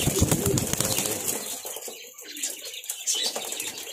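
Pigeons of several breeds kept in a loft, with soft low cooing at first and then scattered wing flaps and rustling, close and fairly quiet against a faint background hiss.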